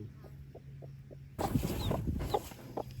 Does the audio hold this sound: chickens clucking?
yes